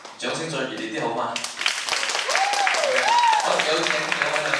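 An audience applauds at a Cantonese song contest after a performance, with broad clapping swelling beneath a sustained singing voice and continuing fairly loud to the end.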